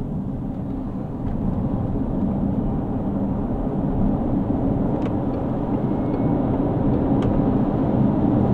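A Peugeot E-3008 electric car accelerating hard from standstill on a wet road, heard from inside as a steady loud rush of tyre and road noise with an electric whine, building slightly with a few faint clicks.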